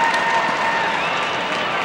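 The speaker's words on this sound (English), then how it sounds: "The fans give a nice round of applause as Syracuse Bettinger steals it" Stadium crowd at a 1992 Syracuse versus UMass lacrosse game applauding in a steady, distant wash of clapping and cheering, with a faint tone running through it.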